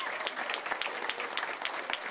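An enthusiastic audience gives a warm ovation to 24 performers in a South Hills show, sustained dense clapping that runs at a steady level and cuts off abruptly.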